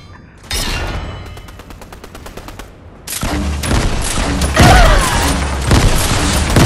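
Video game gunfire: a rapid, loud burst of repeated shots, then a denser, louder barrage of blasts and booms that carries on to the end.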